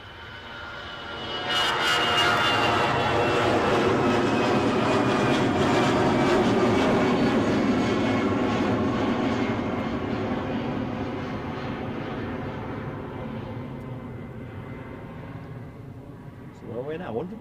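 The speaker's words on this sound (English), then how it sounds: "Looks like we've got our Gatwick departure rolling." A fixed-wing airliner takes off from Glasgow Airport bound for Gatwick, its engine roar swelling quickly after a couple of seconds and holding loud and steady before slowly fading, with occasional voices faintly underneath.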